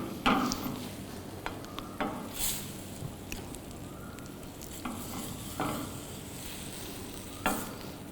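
Chicken stroganoff sauce sizzles quietly in a pan over a raised flame, broken by repeated scraping stirs and occasional utensil taps at an unhurried pace.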